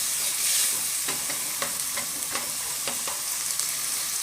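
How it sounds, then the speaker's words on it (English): Peppers and onions fry in a pan under a steady close sizzle, while a utensil stirs them in regular scraping strokes about every half second. "We're going to stir them"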